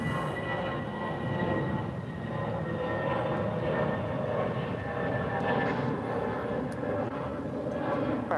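Aircraft at DFW airport, a broad steady engine rumble and roar holding at a fairly loud, even level throughout, with no talk over it.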